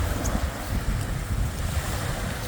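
Sea surf washing in along the bay at Oban, Scotland, a continuous low rumble of waves mixed with gusting wind buffeting the microphone, steady and fairly loud with no voices.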